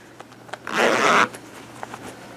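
A small zipper on a purse sewn from recycled denim jeans is pulled in one smooth, close rasp lasting about half a second, with faint handling taps before and after.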